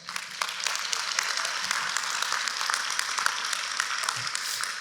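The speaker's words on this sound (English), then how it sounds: "give yourself a round of applause" Graduates of the class of 2025 applaud together at a Bergen Community College commencement ceremony, a steady wash of crowd clapping that holds at an even level throughout.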